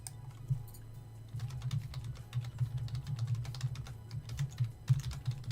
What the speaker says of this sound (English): You sure you could see me and not just hear my keyboard?